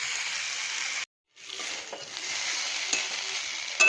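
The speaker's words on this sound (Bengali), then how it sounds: "আমি একটু পেঁয়াজ কুচি দিয়েছি, এবার সুন্দর করে কষিয়ে নেব।" Chopped onion frying in a pan with oil while preparing a papad curry, a steady close hiss broken by a short silent gap, with faint scrapes of stirring.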